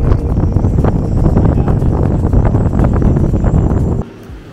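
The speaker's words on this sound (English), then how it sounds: "Wind" Strong wind buffets the microphone at sea, a loud, continuous roar with gusting texture, until it suddenly drops to a much quieter hush near the end.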